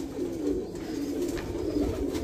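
Golden pigeons coo steadily up close, a low, continuous throaty murmur with soft overlapping coos running through the whole stretch, with no talking.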